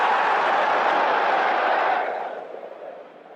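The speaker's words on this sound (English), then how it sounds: "the crowd noise for winning a leg was played before he threw his third dart" Crowd cheering and applause at a darts match after a leg is won, a broad steady roar that holds for about two seconds and then fades out.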